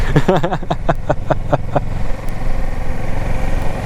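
2017 Kawasaki Versys 650 motorcycle in third gear, a loud close engine note that pulses and rises in pitch during the first two seconds, then settles into a steady rumble with wind.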